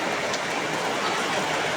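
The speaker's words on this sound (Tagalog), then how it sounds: "Ayan na naman yung ulan, oh. Malakas na naman." Heavy rain from typhoon Kristine pours down steadily in a dense, unbroken wash of noise, loud and close throughout with no voices.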